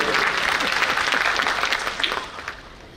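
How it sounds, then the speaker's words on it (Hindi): An audience claps steadily at the inauguration ceremony of a regional Hamara Samvidhan Hamara Samman campaign, applause filling the hall and tapering off toward the end. "ऐसे ताली बजानी तो बजा दीजिए"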